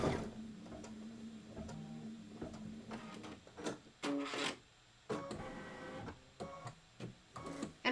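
An A1 Reno embroidery sewing machine stitches a tack-down for quilt background fabric, giving a mechanical whir with rhythmic ticking needle strokes and several louder clattering bursts, close up with no talk.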